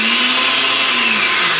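A blender runs at a steady, loud, continuous whir, mixing a blueberry smoothie with honey, with no pauses across the short stretch.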